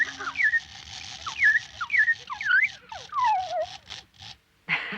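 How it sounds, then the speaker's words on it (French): A wind-up automaton whistles a run of bright, sliding, birdlike notes in quick succession, each rising and falling, over a faint mechanical ticking, before pausing and starting again briefly. "Pour qu'il siffle, il faut remonter le ressort."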